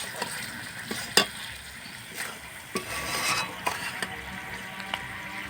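Raw papaya pieces stirred in sugar syrup in a pan, with a low bubbling sizzle under scattered sharp clicks and scrapes of the spoon against the pan.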